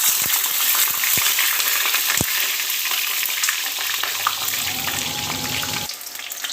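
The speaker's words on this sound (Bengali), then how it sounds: "বেগুনগুলো ভেজে নেব" Eggplant pieces fry in hot oil in a wok, a loud, continuous sizzle broken by a few sharp clinks early on, with no talk.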